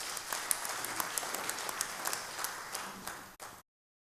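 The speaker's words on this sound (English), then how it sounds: "Give a round of applause." A church audience applauds after a talk on Christ as the water of life, moderate scattered clapping from a smallish crowd that continues for a few seconds before cutting off abruptly.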